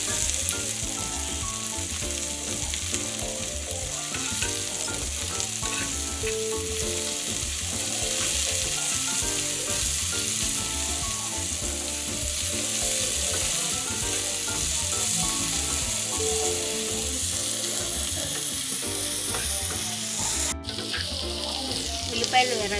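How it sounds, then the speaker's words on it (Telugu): Sliced onions fry in hot oil in a pan with a dense, continuous sizzle that stays close and fairly loud throughout, with occasional stirring and a voice talking over it. "ఉల్లిపాయలు ఎర్రగా వేగాయి కదండి"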